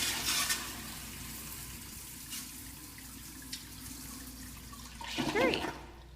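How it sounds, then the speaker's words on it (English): A faulty restaurant restroom toilet keeps flushing by itself: a short burst of rushing water at the start, a quieter stretch of trickling and drips, then another surging flush near the end. "the toilet just kept wanting to flush"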